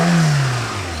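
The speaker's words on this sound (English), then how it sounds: "That's revving all cylinders." The engine of a rare old Toyota that had sat for a long time, running on bad gas and misfiring slightly, revs loudly up close, then its pitch falls as the revs drop.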